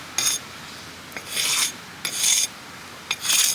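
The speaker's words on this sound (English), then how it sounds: "We'll brush off the excess." A brush scrubs off excess material during a cottage fireplace renovation, four short raspy strokes in a slow uneven rhythm, close and fairly loud with no voices.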